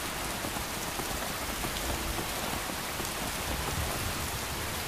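Heavy rain falls in the Skyrim video game, a dense and steady hiss of drops striking surfaces that fills every moment with no other sounds.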